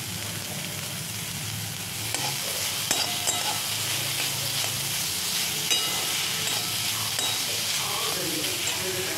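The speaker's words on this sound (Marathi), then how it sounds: "भाज्या होत आल्या, याच्यात घालूया पनीर।" Paneer is stirred into vegetables with capsicum frying in a pan for a sandwich filling, producing a loud, constant hissing sizzle with intermittent scraping and clacking of a spatula.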